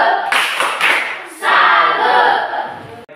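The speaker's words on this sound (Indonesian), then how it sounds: "Tepuk salut untuk Morgan dulu." A class of students claps in salute for a classmate, a loud close burst of rapid applause that briefly dips and then swells again for about three seconds.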